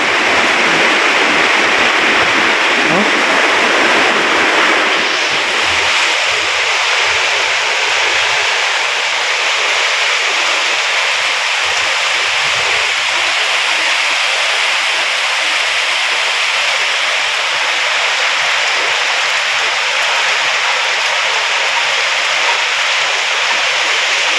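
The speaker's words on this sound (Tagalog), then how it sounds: "pagkatapos ng malakas na ulan" Steady, heavy rush of heavy rain falling, loud and continuous throughout with no voices.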